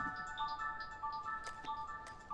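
A phone ringtone for an incoming call plays as a short repeating electronic melody of bright tones, quiet and fairly close, with no talking.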